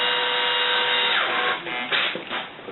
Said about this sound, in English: take the drill, which is set at about 6 for the torque, and it's got a nut driver on it